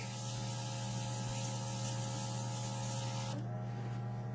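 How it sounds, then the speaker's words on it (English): Airbrush spraying thin paint diluted with airbrush cleaner, a steady close hiss over a constant compressor hum that cuts out near the end while the hum continues. "It's still got a lot of that airbrush cleaner in there, so it's coming out a little thinner than I would like."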